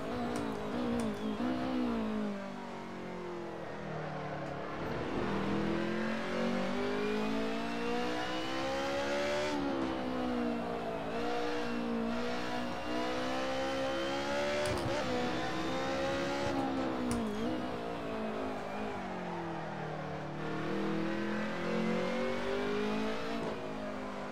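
Monster truck engine in the racing game Monster Truck Madness 2, revving hard and continuously on throttle with rising and falling pitch as gears change, loud and close, with occasional tire squeal and no talk.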